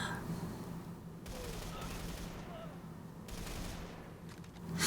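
Gunfire from the video game Army of Two: The 40th Day, a steady wash of rapid shots and explosions held at a constant level throughout, with faint voices underneath and a louder burst at the very end.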